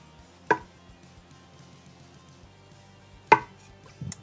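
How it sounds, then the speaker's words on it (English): A knife chops a medium tomato on a cutting board: two sharp, distinct thuds about three seconds apart, with a fainter knock at the end, in a quiet kitchen without talk. "I need to chop 1 medium tomato"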